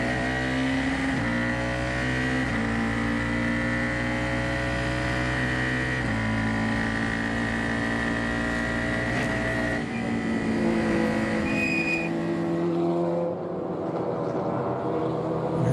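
A Formula 4 race car on board at Circuit of the Americas, its engine droning loud and steady at high revs, pitch shifting through gear changes before easing off near the end.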